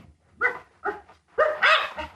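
A dog in a radio drama scene snuffles and whimpers in three short, close bursts, the last one longer and more urgent, with no talking over it.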